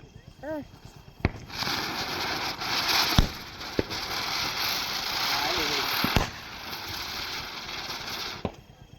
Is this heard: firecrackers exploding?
yes